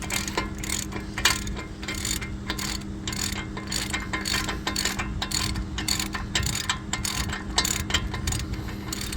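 A ratchet spins off a 36 mm axle nut on a 2006 Ford F150 during wheel bearing and rotor work, giving a long run of rapid, crisp clicks in quick rhythmic bursts, close up.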